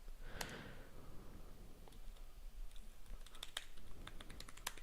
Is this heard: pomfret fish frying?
no